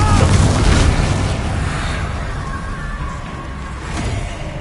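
A Confringo fire spell explosion in Hogwarts Legacy erupts as a loud, heavy boom that slowly decays into a rolling rumble, with a slight swell of noise just before it fades.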